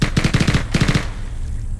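An SMG in the Halo video game fires two quick automatic bursts, a rapid, punchy rattle of rounds followed by a brief fading tail, close and loud with no talking.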